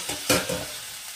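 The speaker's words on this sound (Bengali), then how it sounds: "এটা একটু ভাজা ভাজা হবে, তারপর ফিরে আসছি আপনাদের কাছে।" A quick stir of food sizzling in a hot pan gives a brief scraping swish over a steady crackling hiss, close and fairly loud.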